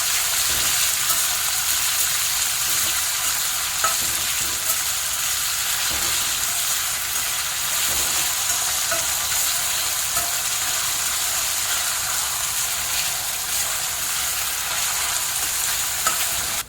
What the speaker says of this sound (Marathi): हा कांदा लसूण आणि हिरव्या मिरचीचा ठेचा केलेला आहे हा टाकायचा आहे चांगला परतून घ्यायचा